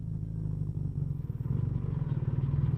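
A BMW R1300 GSA motorcycle riding in second gear gives a steady, close engine rumble with a low throbbing pulse that strengthens slightly toward the end, heard alone without talk.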